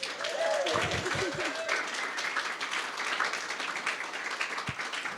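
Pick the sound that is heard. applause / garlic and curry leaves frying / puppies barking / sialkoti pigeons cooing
applause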